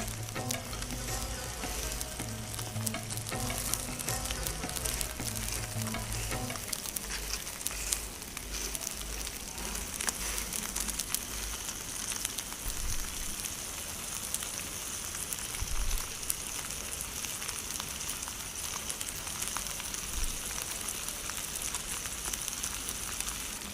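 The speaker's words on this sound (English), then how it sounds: "I'm turning the temperature up to about 140 degrees so that we can get a nice sizzle and just seal the meat of the prawns." Prawns for a prawn curry sizzle in a hot pan, a constant loud crackling fry that runs throughout, with a low background hum fading out early on and no talking.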